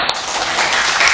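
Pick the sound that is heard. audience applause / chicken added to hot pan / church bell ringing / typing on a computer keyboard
audience applause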